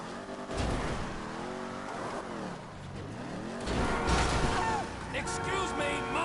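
A video game car engine revs and swings up and down in pitch, rising and falling over several seconds while someone talks over it.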